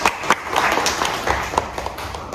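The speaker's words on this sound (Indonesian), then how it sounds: "tepuk tangan untuk temannya" Classroom students clapping for a classmate, a brief, modest round of scattered hand claps with distinct individual claps audible close by.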